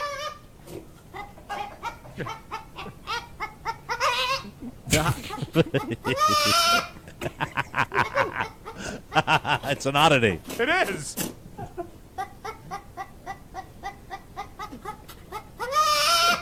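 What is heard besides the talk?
baby goat bleating like a chicken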